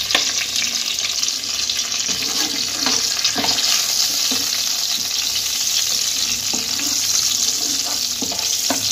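Whole spices (bay leaf, dry chilli, cardamom, cinnamon and clove) sizzling in hot oil for prawn malai curry, a steady close frying hiss with occasional stirring clinks and scrapes throughout.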